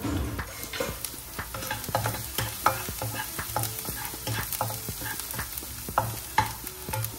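About ten cloves of finely chopped garlic are tossed in a hot pan, a close, steady sizzle under quick rhythmic scraping and stirring strokes, with no voices.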